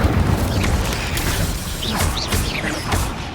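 Fiery spell bursts and whooshing booms from the Hogwarts Legacy video game, a busy run of loud magical blasts with swishing sweeps over a constant rumbling game background.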